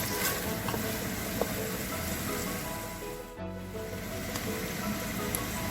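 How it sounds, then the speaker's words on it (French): Crushed tomato simmers and sizzles in a pan while couscous for a Jerusalem-style dish with fish balls is being cooked, giving a steady, soft bubbling hiss with one brief stir partway through. "j'ajoute ma tomate broyée. Je remue. Je laisse encore mijoter pendant"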